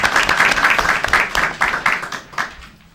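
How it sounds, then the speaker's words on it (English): Live studio audience clapping in a television show studio, a fairly loud burst of mixed applause that gradually thins and fades out over a few seconds. "So everyone clap or there we go."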